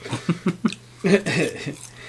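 A person coughs several times in quick succession, close up during a podcast recording, followed by a brief burst of throaty breathing or talk.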